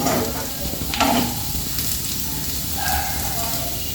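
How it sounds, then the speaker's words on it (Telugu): Onion and egg fry sizzles steadily in a pan while being stirred, a continuous close hiss with faint scraping touches and a few soft voices in the background. "కలుపుతుంటేనే మంచిగా ఫ్రై అవుతుంటుంది"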